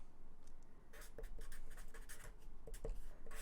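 A blue marker writing on a board during a signals and systems exam review, heard as a run of close, quiet squeaky strokes with no talk.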